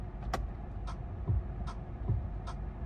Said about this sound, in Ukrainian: Дуже смішний тут звук е, поворотників.